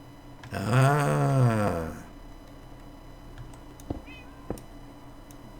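A pet cat lets out one long, loud meow close by indoors, then the room goes quiet with a few soft clicks and taps.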